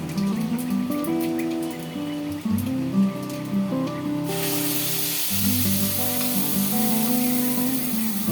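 Mustard-poppy paste and water hit hot oil with black cumin, setting off a sudden loud, steady sizzle partway through that continues over quiet background music.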